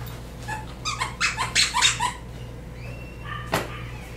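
A dog at a training bootcamp makes a run of squeaky whining yelps in the first half, alone over a steady low hum, followed by a single sharp bark-like burst near the end.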